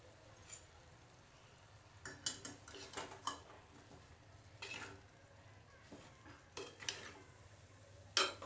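Ghevada bhaji with coriander and salt is mixed in a pan, soft irregular scrapes and clinks of a spoon against metal, quiet and close, with a sharper knock near the end.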